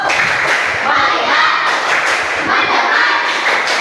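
A classroom of standing schoolchildren performs a rhythmic group clap routine, loud thumping claps in short patterned bursts, with young voices chanting along between the beats.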